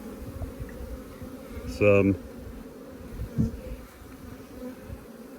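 Honey bees hum around an open hive in a bee yard during the nectar flow, a low continuous drone with a man's brief spoken word and some handling noise over it.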